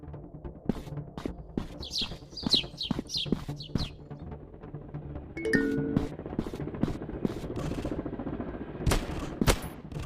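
Gunfire in a counter-terrorist first-person shooter game: a rapid string of sharp shots up front, then a denser burst with mechanical clatter and scattered later shots over background game noise.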